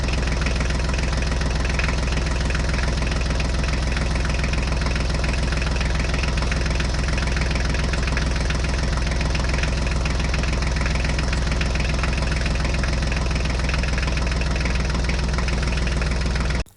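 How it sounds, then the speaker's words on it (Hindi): A mini tractor pulling a trolley runs at a steady idle, its loud, continuous engine drone carrying a low knocking rumble with no break and no talk. "तो चलो अब ट्रैक्टर ट्रॉली को लेके चलते हैं।"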